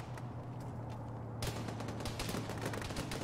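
Bursts of gunfire from a military firefight in the video game ArmA, with rapid automatic shots and scattered single reports, growing louder and denser partway through against steady background noise.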